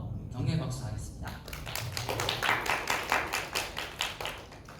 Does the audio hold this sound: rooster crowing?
no